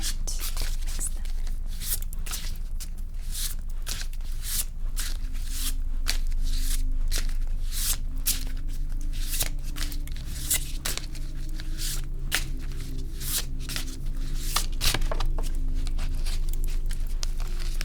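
Oracle cards shuffled by hand, a close, rapid, continuous run of papery riffles and slides with soft background music beneath and no speech.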